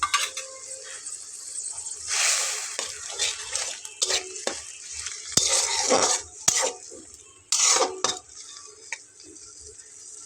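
A spoon clatters and scrapes in a pan as masala with okra and mashed potato is stirred and fried for bhindi masala, with irregular clinks and scrapes over a low sizzle, close and loud, with no talking.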